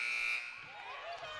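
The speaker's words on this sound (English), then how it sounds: "who at the shot clock buzzer" A basketball shot clock buzzer at a women's college game sounds as a short steady electronic tone, then cuts out as crowd noise continues in the arena.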